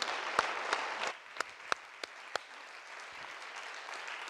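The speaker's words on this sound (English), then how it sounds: "Round of applause for our panelists" Thin, fairly quiet applause for summit panelists from a small audience, with a few sharp individual claps standing out before it settles into a soft patter.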